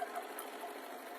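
A home sewing machine running steadily as it stitches fabric pieces for a neck warmer in a craft room, a faint, even mechanical whir lasting about a second with no pauses.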